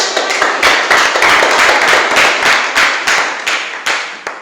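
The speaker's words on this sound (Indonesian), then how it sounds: "Oke, mari kita berikan tepuk tangan." A classroom group claps after a presentation, a brisk run of close, sharp hand claps that starts loud and thins slightly toward the end.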